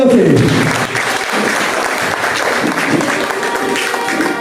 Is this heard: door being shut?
no